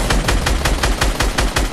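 Rapid automatic gunfire from the video game Fortnite, loud, close bursts in a steady fast rhythm of about five shots per second, running throughout with no talk.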